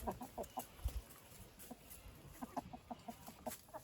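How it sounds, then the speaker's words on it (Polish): A white rooster clucks in short, quiet bursts nearby, with soft rhythmic calls repeating over faint outdoor background. "To jest mój wspaniały biały kogut"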